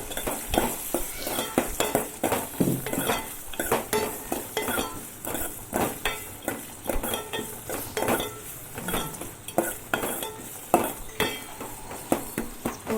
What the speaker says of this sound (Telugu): తర్వాత దాన్ని ఒకసారి స్పూన్తో కలుపుకుంటున్నాం